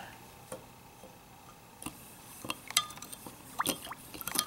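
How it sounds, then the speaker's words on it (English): Sugar and water mixed one to one for feeding bees are stirred, giving faint scattered ticks, clinks and liquid sloshes that grow busier toward the end, quiet and close. "Then you just stir it up."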